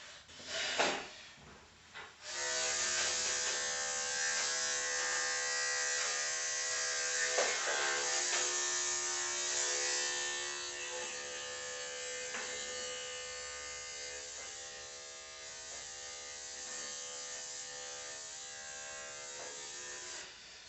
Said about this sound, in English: then I'll go back across it with my clipper once I know it's all safe